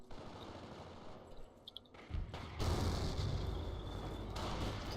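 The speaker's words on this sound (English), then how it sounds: "these snipers just firing at will with no recourse" Sniper rifles firing at will in a World War II real-time strategy game match, heard as a dense mix of gunshots and booms rising to a loud, sustained din of battle after a quieter start.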